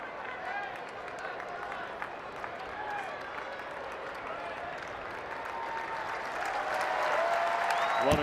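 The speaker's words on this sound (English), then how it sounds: "that round of applause you hear" Baseball stadium crowd at a Rockies–Reds MLB game applauds in a distant, steady wash of clapping that swells slightly toward the end, under a play-by-play commentator's voice.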